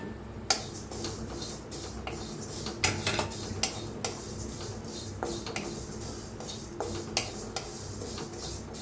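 Cumin and fennel seeds dry-roast in a pan for mango pickle, heard as a string of light metallic clinks and scrapes from stirring against the pan, irregular and close, with no voices.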